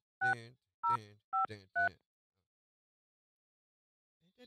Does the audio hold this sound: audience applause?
no